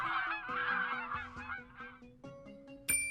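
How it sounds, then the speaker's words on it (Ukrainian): Cartoon geese honk repeatedly at close range, a busy flock calling over one another in loud, nasal bursts. "Це гуси."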